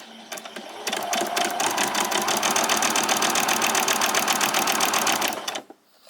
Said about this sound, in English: I'm going to do some back stitches, and then all the way around